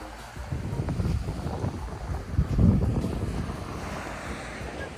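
Sea waves washing onto a beach in Turkey under steady wind, with a continuous low roar of surf and blustery gusts buffeting the microphone, swelling a little midway through.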